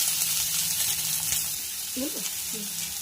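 Nigella seeds, chopped onion and slit green chillies frying in hot oil for a fish curry, giving a steady, bright sizzle with a couple of faint tonal scrapes near the end.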